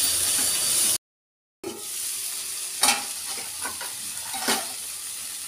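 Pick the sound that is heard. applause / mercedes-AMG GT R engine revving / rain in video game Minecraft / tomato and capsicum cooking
tomato and capsicum cooking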